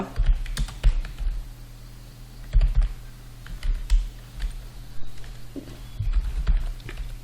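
Bengali text typed on a computer keyboard, irregular bursts of close, crisp key clicks separated by short pauses, with a low steady hum underneath.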